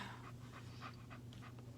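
A compact, muscular little dog pants in quick, rhythmic huffs, close and quiet, over a steady low background hum.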